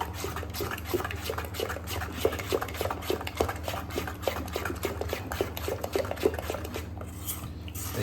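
Spoon stirring soaked semolina batter for rava dhokla in a bowl, steady soft scraping and clinking strokes repeating at an even pace, close and fairly quiet with no talk.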